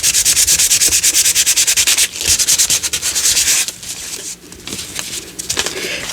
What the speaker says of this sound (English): If you don't like the sound of the sandpaper,